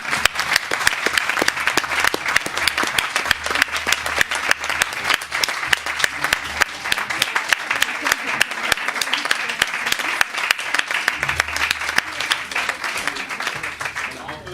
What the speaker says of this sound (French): Ça s'applaudit, ça, quand même.